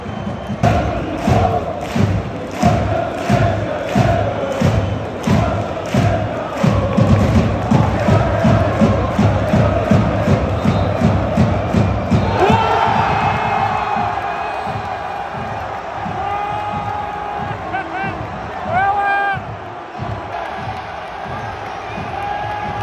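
Football fans in a packed stadium at a Paris FC versus Metz match pound out steady rhythmic thumps alongside shouting and chanting, then the beat stops and a rougher crowd roar carries on at a distance.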